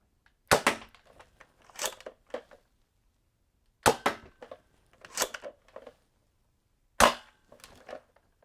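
A Nerf Mega Tri-Break blaster fires darts in sharp, loud pops, each followed by rattling and clicking as it is reloaded and primed, in several spaced bursts.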